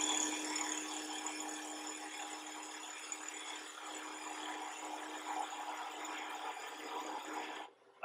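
A turning tool cuts into wood spinning on a lathe, producing a steady, close scraping hiss that runs without a break until it stops abruptly near the end.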